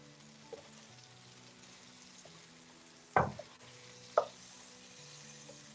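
Steak searing in butter in a pan, a faint steady sizzle broken by two louder knocks as the meat or pan is moved, otherwise quiet.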